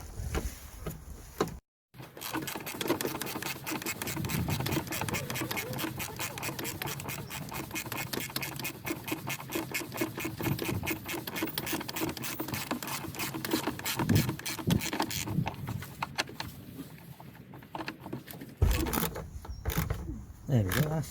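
Bolts being tightened on a faulty front wiper motor of a Mitsubishi Lancer Carisma, with fast, steady mechanical clicking that runs almost nonstop, breaks briefly near the start and stops near the end.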